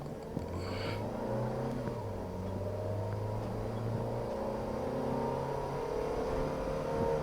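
A boxy Toyota Avanza with a 1.5 liter engine pulls away from a standstill, its engine note rising in a few stepped surges as it gains speed, heard from inside the cabin at moderate, even volume.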